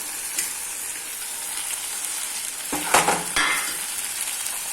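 Tomatoes and mint leaves sautéing in a pan for mint chutney, a steady close hiss of frying with a couple of louder spatula stirs and scrapes near the end, no talk.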